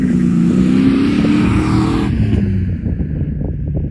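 An LS V8 swapped into a Mazda RX8 revs loudly and close by, a deep continuous engine roar that holds strong for about two seconds, then eases into a rougher, pulsing idle-like burble.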